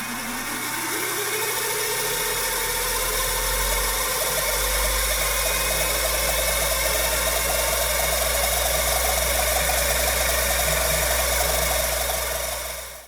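A faulty Finch disk drive on a minicomputer spins up, rising into a loud, steady mechanical whine and grinding roar with a deep rumble beneath, holding continuous and close for the whole stretch with no talking.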